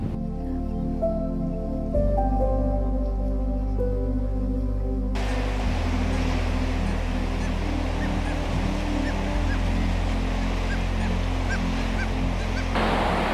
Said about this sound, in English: This area of cliff just here behind me is alive with seabirds.